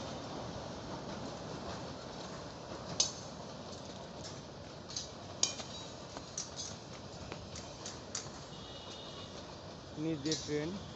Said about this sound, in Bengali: ট্রেনটা অনেক বড়